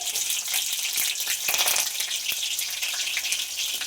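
Mustard seeds, cumin and green chillies fry in hot oil for a tempering, giving a dense, steady sizzle with scattered crackles and pops, close and loud throughout with no talking.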